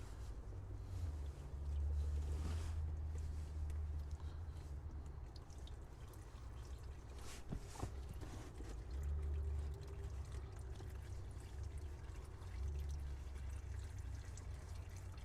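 Transmission fluid drains steadily from the pan of a Nissan CVT, a continuous low pouring and trickling stream that holds for the whole stretch, with faint drips and clinks and no talking.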